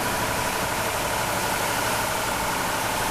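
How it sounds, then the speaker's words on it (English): A Valtra tractor engine runs at a steady idle while hitched to a Bauer 3,500 gallon tanker, giving a continuous, even mechanical drone with no speech. "uses a Valtra tractor"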